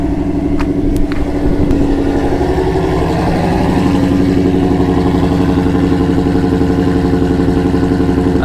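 A Ford Shelby GT350 engine runs steadily at close range, a deep, rumbling idle with a rich harmonic burble that holds loud and even throughout, with no voices over it.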